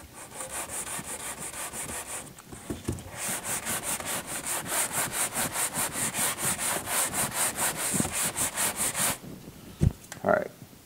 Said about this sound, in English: we're gonna sand in an X pattern